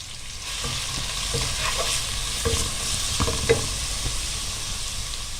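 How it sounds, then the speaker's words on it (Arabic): Onion fries in ghee in a pot on the stove, giving a steady, close sizzle broken by scraping stirs and occasional louder pops, with no speech. "حاطه هنا حله على النار فيها شويه سمنه، هحط نص مقدار البصل"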